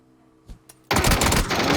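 Automatic gunfire erupts in a video game shooter, a sustained loud burst of rapid shots following a couple of faint single pops, with no talk over it.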